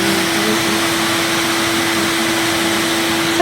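A roughly 35 to 40 year old Henry Hoover vacuum cleaner runs close and loud, a steady broadband motor whine with a constant pitched hum that holds unbroken throughout.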